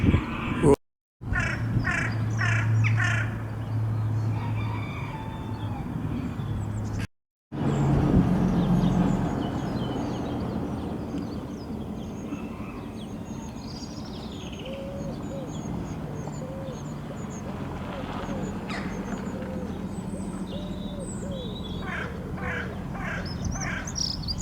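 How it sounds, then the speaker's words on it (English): Crows and jackdaws call in scattered, fairly distant caws and chatter, with a person talking over parts of it and ambient outdoor noise throughout. "Crows and jackdaws."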